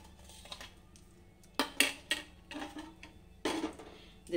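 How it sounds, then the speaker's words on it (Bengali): Batter with onion, green chili, ginger paste and salt is mixed in a bowl, with sharp spoon clinks and scrapes arriving in uneven bursts between quiet gaps. "সমস্ত উপকরণকে এবার ভালো করে আবার একবার গুলে নেব"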